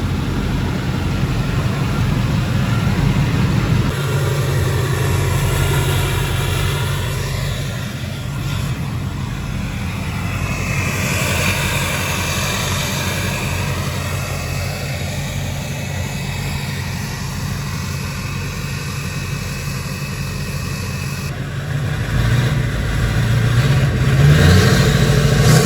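A 2006 GM LBZ Duramax diesel truck fitted with a 5-inch MBRP full stainless exhaust idles with a steady deep rumble for a long stretch, then revs up louder near the end.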